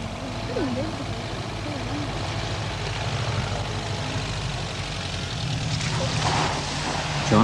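A homemade rally car with a 1600 Subaru engine idles and rumbles steadily at a 1985 Dunedin event, swelling slightly near the end under a commentator's voice.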